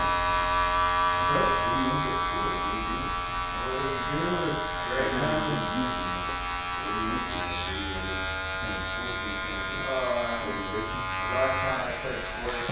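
Electric hair clipper buzzing steadily with no guard, blade set to a zero line, cutting hair for a taper fade, a constant close hum running throughout while someone talks over it.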